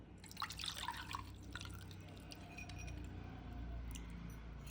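Seeds soaked overnight are strained in a home kitchen, with a quick cluster of clinks and drips of water in the first second, then a steady low background hum with only faint trickling.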